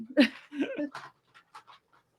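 A dog pants and gulps noisily while eating a series of treats, giving close, uneven huffs and snuffles that fade into softer, scattered breaths.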